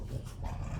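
A dog growls low and whimpers in a short, close rumbling burst during an Excel tutorial session, with no talking.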